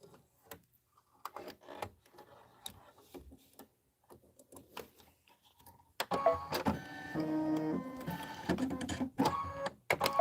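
An embroidery machine stitching a winter design runs in sparse ticks and short mechanical bursts at first, then settles into a louder, steady whirring stitch rhythm for the last few seconds, close and without talk.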